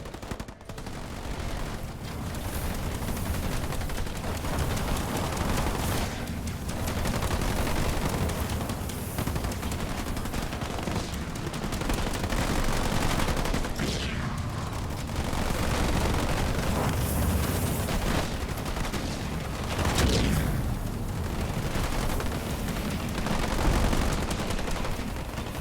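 Turrets in the Halo Wars 2 strategy game fire without pause, a dense, loud stream of rapid gunfire and explosive bursts that runs through the whole stretch with no let-up.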